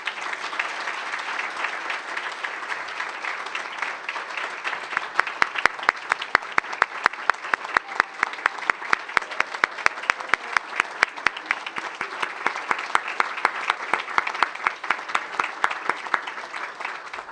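An audience at a Hall of Fame ceremony applauds its honorees, giving sustained, dense clapping that swells partway through, with some sharp nearby claps standing out from the crowd.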